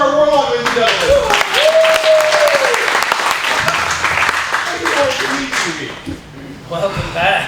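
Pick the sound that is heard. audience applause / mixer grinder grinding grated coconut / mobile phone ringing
audience applause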